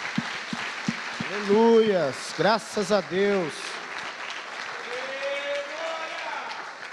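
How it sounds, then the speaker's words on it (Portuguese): Congregation applauding during an evangelical church service, steady broadband clapping throughout with a voice speaking and exclaiming over it. "Salva de palmas para Jesus Cristo."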